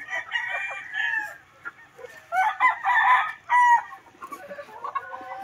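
Gilmour and Leaper hatch gamefowl hens and roosters kept in pens, heard as loud nearby crowing and clucking from several birds overlapping continuously, with no talking.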